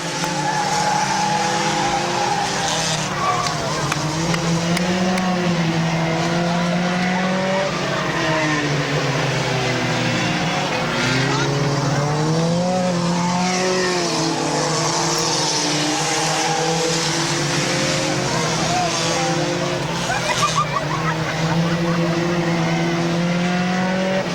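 Compact race cars roar around Midvale Speedway in 2012, their engines rising and falling in wavering pitch as they pass, with tire squeal and skidding mixed in and faint announcer commentary underneath.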